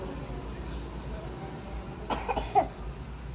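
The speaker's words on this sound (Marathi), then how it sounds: "लईच खोकला यायला ना" A few short, sharp coughs close by, bunched together near the end over a low steady background hum.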